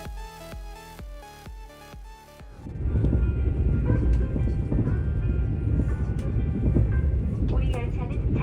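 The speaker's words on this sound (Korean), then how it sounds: "열차는 다음 정차역인 청도역을 향해" Mugunghwa-ho passenger train running toward Cheongdo station, a loud steady rumble and rattle from inside the carriage that follows a short melodic chime, with a voice over the noise.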